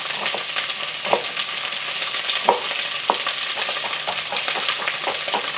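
Chicken pieces browning in a pan for a chicken rendang curry, giving a continuous bright sizzle with occasional louder pops and crackles as the meat fries, close up with no voices.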